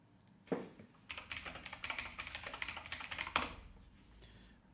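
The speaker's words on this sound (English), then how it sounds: "Hear how loud my gaming keyboard is" A loud gaming keyboard clatters under fast, steady typing for about three seconds, close and crisp against a quiet room, with no talking.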